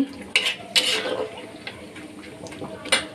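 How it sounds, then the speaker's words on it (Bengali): Metal utensil clinks and scrapes against a pan in a few sharp bursts over a faint, steady sizzle of cashews frying lightly in ghee. "এই যে আমি কাজুটা দিয়ে দিলাম, একটু ভেজে নেব হালকা"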